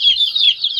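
A young chick chirps in one continuous high, thin peep, close and fairly loud, with nothing else around it.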